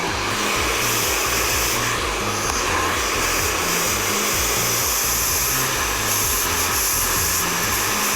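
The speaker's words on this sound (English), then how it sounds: "take your GHD air and use your nozzle, and then I'm going to blow dry in the volume" A GHD Air hair dryer fitted with a nozzle roars steadily and loudly throughout, a continuous airy whoosh blow-drying hair for volume, with no talking over it.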